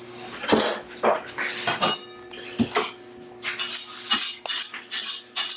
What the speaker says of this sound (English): I gotta grab my other knife